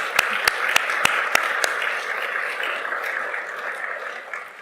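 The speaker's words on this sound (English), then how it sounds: "I think we all owe her a round of applause." Scattered audience applause at a gathering honouring a former prime minister: a few sharp, distinct claps at the start give way to a soft, steady wash of clapping that lingers through the rest.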